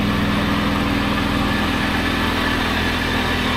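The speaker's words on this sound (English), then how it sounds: "Got some exhaust noise yet." A Toyota Land Cruiser 80 Series engine idles with a rotted muffler leaking exhaust, giving a loud, steady low rumble with fast even pulsing, close and continuous throughout.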